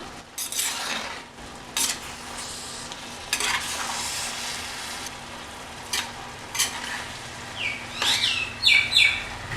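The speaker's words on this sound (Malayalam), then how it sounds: "കോവയ്ക്ക കുക്ക് ചെയ്യാനായിട്ട് വെച്ചിരുന്നത് നമുക്കൊന്ന് തുറന്ന് നോക്കി ഇളക്കി കൊടുക്കാം" Ivy gourd being cooked in a pan is stirred with a spoon in repeated scraping bursts over a soft sizzle, while birds chirp faintly in the background near the end; no talk.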